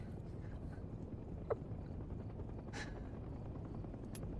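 In a Vietnam-themed multiplayer video game, a helicopter's rotors make a steady, low, whirring drone, with faint distant gunfire pops over it.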